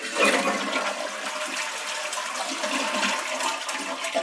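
Water rushes steadily out of a toilet tank through a canister-style flush valve held open by hand, a close, continuous loud draining gush with no talking.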